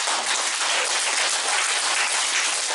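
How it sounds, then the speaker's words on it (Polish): Applause from children at a paramedics' first-aid lesson, a dense, even burst of clapping heard close and alone, without any talking. "brawa."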